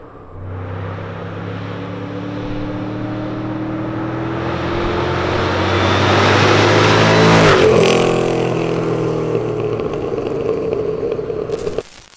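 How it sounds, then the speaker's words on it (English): Ford Mustang S197 with an opened-up exhaust and H-pipe revving, a deep engine tone climbing steadily in pitch to a loud peak before dropping off, close and alone. "Open up that exhaust, now you got that nice deep tone, especially if you go with something like an H-pipe"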